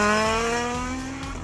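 A Mark II Ford Escort rally car on a Barbados rally stage, its engine screaming loud and close in a sustained high rev, with a faint descending pitch as it passes.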